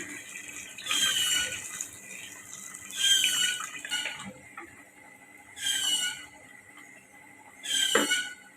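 Water pours in four separate bursts, each a couple of seconds long, splashing into a pressure cooker of mutton curry with quiet pauses between them.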